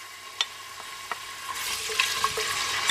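Chopped onion dropped into heated oil in a pan, a few stirring clicks giving way to a rising, steady sizzle that builds close and loud.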